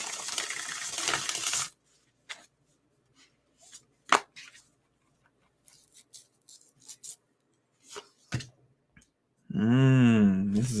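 A burst of tarot card shuffling opens, followed by scattered soft clicks and taps of cards being handled in near silence, then a voice begins speaking.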